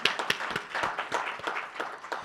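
A small panel-discussion audience claps steadily and briefly, scattered hand claps at moderate volume with no talking.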